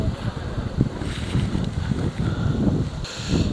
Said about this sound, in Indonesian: Ya Allah, anginnya.